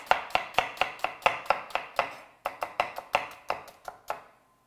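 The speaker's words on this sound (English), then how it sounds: "I love chopping. It's so fun." Knife chopping onions on a cutting board during meal prep: about twenty crisp, fairly loud chops in a steady rhythm with one brief pause, then silence.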